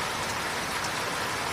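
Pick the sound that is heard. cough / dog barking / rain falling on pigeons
rain falling on pigeons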